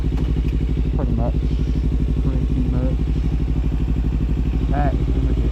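A motorcycle is ridden with its engine droning loud and steady throughout, and a few short rising whines from the engine or wind come through over the rumble.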